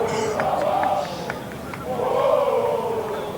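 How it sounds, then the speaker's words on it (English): A small but vocal rugby crowd at Lancaster Park during the 1987 Rugby World Cup pool match between Argentina and Italy, chanting and shouting in steady, swelling waves from the stands. "Not a very big crowd at Lancaster Park, but it is vocal, and both sides have their share of support."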